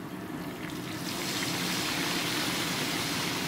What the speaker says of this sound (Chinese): 咁我哋就加啲水落去啦。